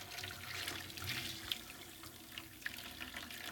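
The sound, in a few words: water being poured slowly into a plate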